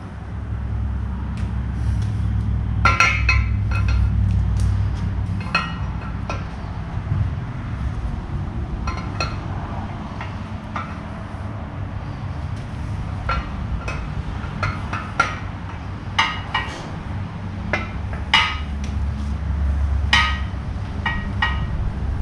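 A cleaned camshaft coated in assembly lube being fed into a junkyard LS engine block, giving scattered sharp metallic clinks and taps over a low steady background rumble, close by.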